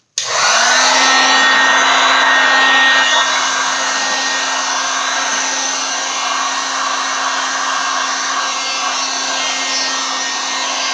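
A heat tool blows steadily to warm glitter, switching on abruptly with a loud, close whooshing whine that holds constant for about eleven seconds and eases slightly in volume.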